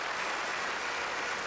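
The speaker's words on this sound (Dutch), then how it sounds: "Het is een ovationeel applaus." A TV studio audience at a Dutch game show gives a standing ovation, a steady even wash of clapping with no break across the short span.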